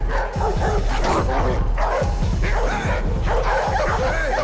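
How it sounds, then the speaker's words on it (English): Several dogs bark, yip and whimper in a frantic, overlapping clamor from a scene in the 2002 Resident Evil film, loud and continuous over a dense background hum throughout. "there's these dogs who smell the virus in the air and freak out"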